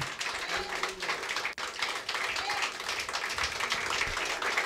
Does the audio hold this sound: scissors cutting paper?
no